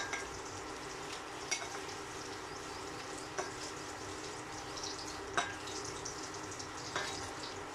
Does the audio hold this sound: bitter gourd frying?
yes